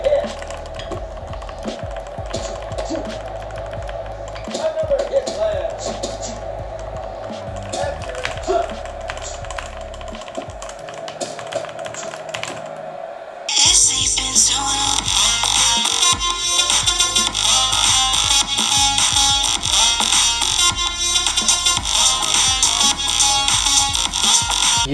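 Boxing video game sounds, preinstalled on an Apple Mac Mini M1, play through the computer's small built-in speaker, a steady stream of game audio with tapping hits that turns louder and brighter partway through.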